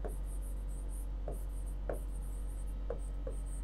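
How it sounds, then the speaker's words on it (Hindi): Pen scratching across a paper page as someone writes by hand, soft close strokes in short repeated bursts over a steady low background hum. "थोड़ा साफ साफ लिख रहा हूँ"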